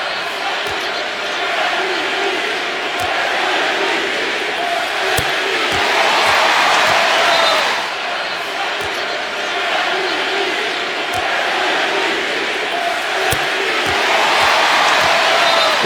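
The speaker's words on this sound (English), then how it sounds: "Take a listen to what the fans are cheering." Basketball arena crowd noise during a Stephen Curry free throw for the Warriors: a steady roar of fans chanting and cheering that swells midway, with faint thumps of a ball bouncing and scattered shouts.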